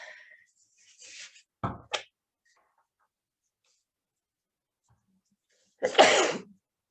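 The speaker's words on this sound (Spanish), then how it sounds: "Estoy por estornudar." A person's sneeze breaks the quiet, preceded by a few faint sharp sniffs and followed by a louder, full sneeze near the end, heard up close in an otherwise silent room.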